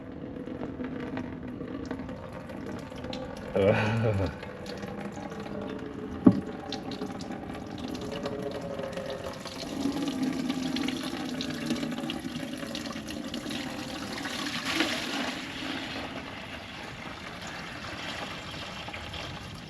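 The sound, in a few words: water draining from a Transtar 2 cabover truck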